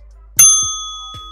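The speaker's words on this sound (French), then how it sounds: "surtout activer la cloche de notification" A bright notification bell dings once, loud and close, its pure ringing tone sustaining and slowly fading, followed by a couple of faint lighter taps.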